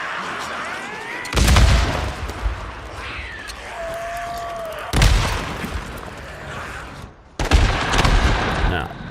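Grenade blasts and bursts of gunfire in the zombie-horde game Days Gone come as three loud, sharp booming bursts spaced a few seconds apart, with quieter crackling and whistling tones between them.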